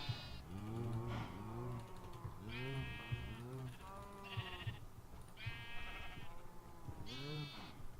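Minecraft sheep bleat repeatedly in a farming game, several wavering calls spaced a second or two apart, loud and close over a steady background bed with faint keyboard-like clicks.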